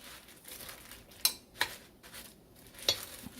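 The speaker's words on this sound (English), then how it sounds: "you do that, kind of lightly toss them" Meatballs sizzling in a pan on a stove as they are lightly tossed, with a steady soft frying hiss broken by three sharp clinks and scrapes of utensil against pan, close and alone.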